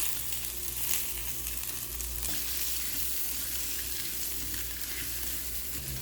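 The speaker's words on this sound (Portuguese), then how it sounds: "Pra mim aqui já tá bem fritinha já a linguiça. Aqui eu vou colocar uma cebola aqui, ó." Sausage and onion sizzle steadily in a pan on a portable two-burner electric tabletop stove, a continuous close frying hiss with occasional stirring scrapes and no voices.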